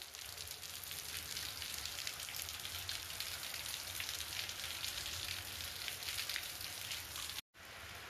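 Steady, heavy rain falls outdoors in an even, dense hiss that barely changes, with one brief dropout near the end and no voices.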